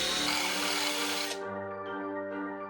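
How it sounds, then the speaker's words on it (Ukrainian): A cordless drill bores a hole through a small metal jar lid, a loud continuous whirring grind that cuts off abruptly partway through, leaving quieter rumbling and faint clinks. "У кришці за допомогою шурика просверлюємо отвір."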